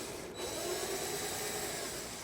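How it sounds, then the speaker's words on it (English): A power drill whirs steadily after a brief pause, a close, even mechanical grinding that holds at the same pitch until the end. "Don't push, just the weight of the drill."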